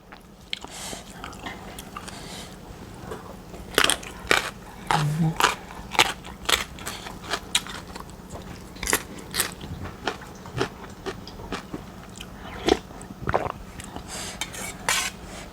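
Crisp fresh raw vegetables are bitten and chewed alongside roasted Thai shrimp paste, kapi khua suk. Loud, close crunches and crackles repeat steadily, with occasional brief voice sounds between bites.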